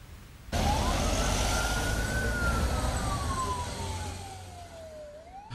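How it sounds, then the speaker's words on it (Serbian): Police and fire vehicle sirens wail during an emergency drill in the village of Temska, Pirot district: one loud, close siren sweeps slowly up and down over a constant rumble of traffic. "Na sve strane policijska i vatrogasna vozila sa uključenim sirenama"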